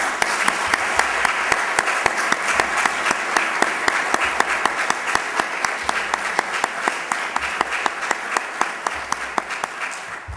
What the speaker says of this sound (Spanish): Yo también os quiero dedicar un gran aplauso.